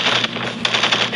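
Rapid automatic gunfire from a Call of Duty multiplayer match, a dense continuous rattle of shots with a few sharper bursts, loud and close throughout.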